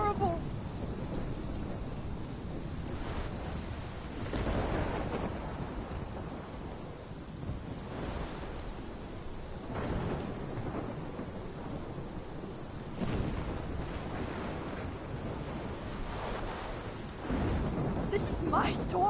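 Steady rain pours down during a thunderstorm, with broad rumbling swells of thunder rolling in every few seconds and gusts of wind; the roar stays loud and continuous throughout with no break.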